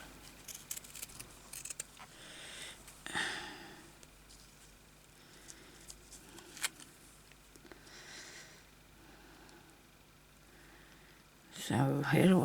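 Scissors snipping paper to cut out a flower shape for a journal pocket, a few faint crisp cuts scattered across a quiet room, with a person talking intermittently and louder rustling near the end.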